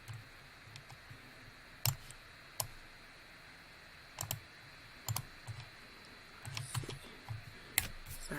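Sharp computer mouse clicks sound while a design is being made in Canva, coming singly and in small clusters at irregular intervals over a faint steady hum.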